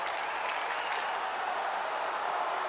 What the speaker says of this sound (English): So the crowd voicing its appreciation after that round